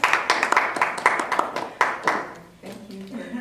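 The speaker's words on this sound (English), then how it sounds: "Clap it up as she comes in" A small studio audience claps for an arriving guest on a TV show: a burst of sharp, uneven hand claps, close and loud, that ends abruptly as a voice begins to speak.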